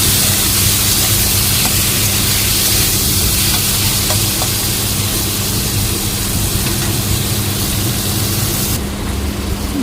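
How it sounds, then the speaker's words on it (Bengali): A steady, broad sizzle of shrimp frying in hot oil runs throughout, even and unbroken, with no voices. "দিয়ে চিংড়ি মাছটা ভেজে নেব চলুন চিংড়ি মাছটা এখানে ভাজা হতে থাক"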